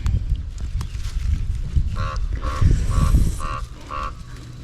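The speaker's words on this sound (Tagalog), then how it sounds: "Ingay ng uwak na to ah." A crow caws harshly in a rhythmic run of about five calls in the open air over a wild blueberry patch in Canada, heard through steady low rustling and movement.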